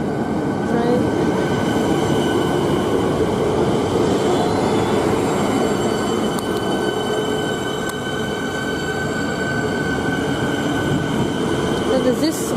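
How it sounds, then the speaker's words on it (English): A Frankston service train runs through Mentone station, a loud continuous rumble of rail cars and rolling wheels with faint squeals, close by and constant throughout, with a little talk over it. "There's that train."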